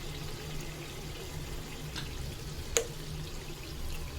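Water poured from a container into chicken curry simmering in a pot, a steady wash of pouring and liquid noise throughout, with one brief splash partway through.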